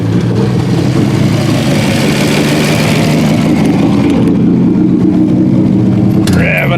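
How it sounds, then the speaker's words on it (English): An old 1950 Studebaker Champion engine, run after decades in a shed, runs steadily and loudly close by with a rough rumble, its revs rising a little before easing near the end. "Revving up a little much, but she's running."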